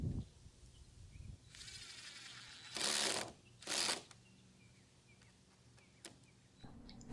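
Small drill boring light pilot holes for small hinge screws, two short loud whirring bursts close by, with faint scrapes and handling noise around them.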